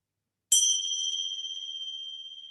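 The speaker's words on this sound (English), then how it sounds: "the bell." One clear, high bell is struck once during a yoga purification practice and rings on with a long, shimmering sustain that slowly fades.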